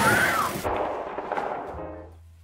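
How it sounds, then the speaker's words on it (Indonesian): A single sharp flare gun shot cracks out, followed by a rumbling, fading echo that trails off over about two seconds. "Dengan satu-satunya amunisi flare gun yang tersisa, Alex pun menembak binatang tersebut."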